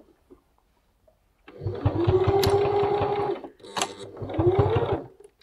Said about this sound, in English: And then just sew around that line with a good 5mm seam allowance.